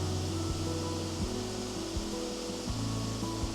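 Steady broadband rush of the Calder mill waterfall at Lochwinnoch, a continuous even roar with low thumps and knocks woven through it, no voices.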